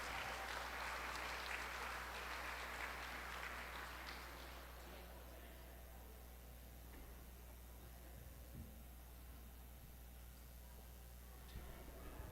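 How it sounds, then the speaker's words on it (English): An audience applauds at a Department of Foreign Affairs reopening ceremony: dense clapping fills the first few seconds, then fades into a quiet hall hum with a faint tick near the end. "A round of applause, please."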